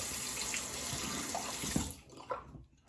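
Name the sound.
rinsing razor under running tap water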